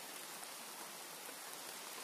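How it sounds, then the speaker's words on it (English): Rain falling in the farming game Grimshire, a dense, even broadband hiss of steady rainfall, quiet and continuous with no talking. "now it's going to start raining after I just finished watering everything"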